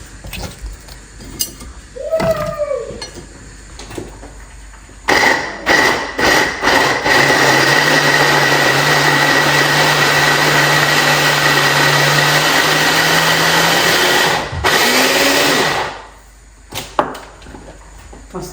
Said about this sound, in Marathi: पण हे चॉपरमध्ये मी हे बारीक चॉप करून घेणार आहे